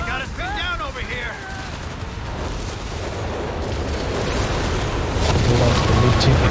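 Battle gunfire from Company of Heroes 3 keeps up a steady, rising barrage of rifle and machine-gun shots with distant booms, while someone talks over the start.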